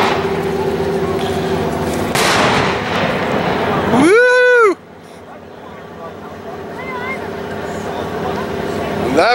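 A warning cannon fires at a tugboat parade in Waterford, New York, giving a single loud boom. A long boat horn blast follows, with voices and background murmur around it.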